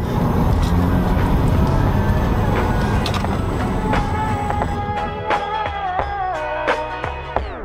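A Tesla Model 3 Performance electric car accelerates hard. A loud rush of road and wind noise fades into a thinner, rising electric whine with a few brief tonal blips near the end.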